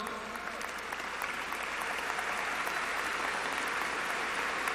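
A large graduation ceremony audience at a high school claps steadily in sustained, dense applause with no pauses, filling the space evenly from start to finish.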